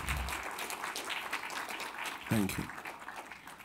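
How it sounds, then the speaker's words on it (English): An audience at a DOC NYC 2022 film festival Q&A, following a documentary on Ukraine's war, claps in a dense, sustained patter while a voice briefly speaks over the applause. "this guy deserves applause"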